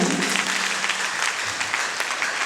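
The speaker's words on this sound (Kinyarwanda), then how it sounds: "Muvugire dukomere amashyi Imana." A church congregation applauds together, dense loud clapping that fills the room evenly from start to end with no one speaking over it.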